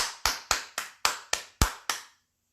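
Eight slow, evenly spaced claps from a single pair of hands, each crisp and close with a short decay, ending in silence.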